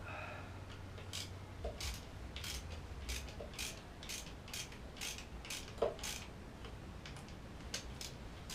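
A bolt is snugged on a 2021 Yamaha YZ250F engine during head gasket work, giving a close, rhythmic series of ratcheting clicks that repeat steadily under a faint mechanical hum.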